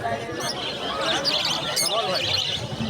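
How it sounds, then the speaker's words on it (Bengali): Colourful pet birds in a pet market chirp and tweet in quick, high, overlapping bursts, moderately close, mixed with background chatter and a nearby voice. "আমি এই পাখিগুলো দেখে অবাক হচ্ছি"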